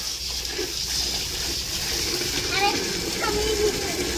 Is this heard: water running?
yes